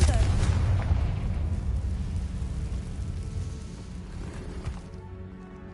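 An explosive Confringo spell blast in the Hogwarts Legacy video game, cast inside a cave: a loud, deep rumbling boom that slowly fades and settles over several seconds.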